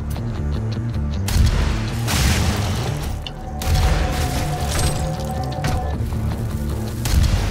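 Red barrels explode in Doom, heavy booms recurring every second or two, loud and close over game noise and music.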